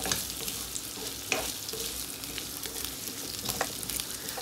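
Peas and mixed vegetables fry in a pan while being stirred, giving a continuous soft sizzle with light scraping and shuffling, fairly quiet and without talk.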